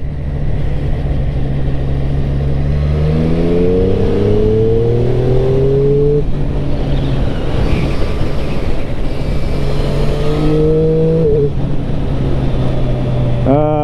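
Motorbike engine running close by, with a steady idle rising through several revs, the pitch climbing and falling between them, while someone talks over it.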